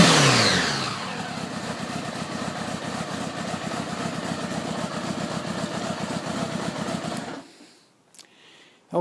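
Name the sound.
1976 Honda Goldwing motorcycle engine revving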